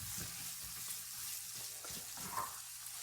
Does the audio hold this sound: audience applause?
no